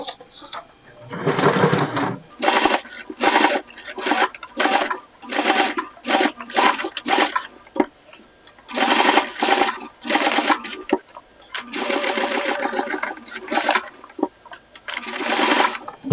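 A domestic sewing machine stitches fabric along a curve in repeated bursts of rapid mechanical whirring, stopping and starting with short pauses between runs, close and loud.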